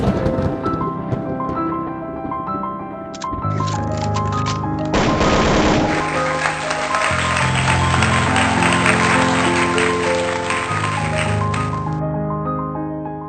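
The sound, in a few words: church congregation cheering and applauding for Jesus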